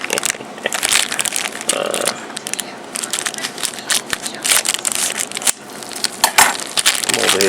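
Heroclix figure packaging is cut and torn open with scissors, giving loud, close crinkling plastic, sharp snips and crunching rustles in irregular bursts throughout, with no talking.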